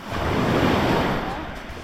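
Ocean waves surging onto a beach, a broad roar that swells and then slowly recedes, close and fairly loud with some wind buffeting the microphone.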